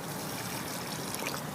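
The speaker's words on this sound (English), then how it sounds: "My favorite way of watering for seedlings is to put water" Water trickles softly into a planting hole dug for a tomato seedling in a garden bed, a faint steady pour lasting a moment with no voices.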